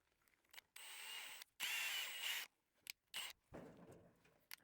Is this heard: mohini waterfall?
no